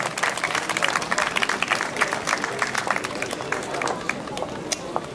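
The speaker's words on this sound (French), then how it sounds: "On peut l'applaudir également si vous voulez bien" Audience applause at the Miss Alsace 2013 candidate presentation, a steady crowd clapping that fills the whole stretch at moderate loudness, with murmuring voices mixed in underneath.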